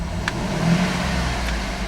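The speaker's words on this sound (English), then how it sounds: "Vehicle is running. I'm going to rev the engine." The engine of a 2011 Cadillac Escalade SUV is revved while running, a loud close low rumble that swells briefly and then settles back toward idle.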